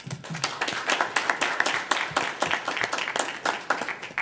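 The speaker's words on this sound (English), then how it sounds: "offer her a round of applause" Small meeting-room group claps for a colleague, a modest round of distinct, fairly close hand claps in an uneven steady patter.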